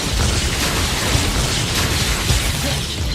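An Incendio fire spell in the video game Hogwarts Legacy gives a sustained, dense roaring blast of flame and crackling bursts that fill the whole stretch without pause.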